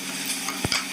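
Cumin seeds hiss and sizzle in hot oil that was used for frying, a close, steady crackle with a brief stirring knock near the end.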